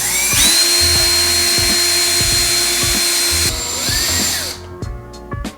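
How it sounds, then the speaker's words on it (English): A power drill whines loudly and continuously while boring a hole through a metal key, steady high-pitched grinding with regular clicks, then winding down and stopping near the end. "Once you finish drilling your hole"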